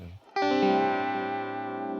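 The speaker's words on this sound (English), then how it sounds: "It's pretty far from like your traditional Univibe sound, but it's a really cool one" An electric guitar note rings through a Univibe-style modulation pedal, with fast and slow modulation running together. It starts with a sharp attack and sustains, rich and throbbing, for about two seconds.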